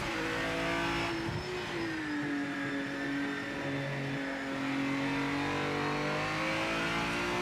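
Race car engines in Project Motor Racing on PS5, a loud continuous high-revving drone that shifts pitch as the car accelerates and changes gear, with no talking over it.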